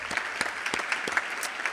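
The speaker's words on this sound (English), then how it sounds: "Please give them a round of applause." Audience at a community foundation scholarship award ceremony gives a round of applause, sparse clapping with distinct individual claps standing out, moderately quiet and brief.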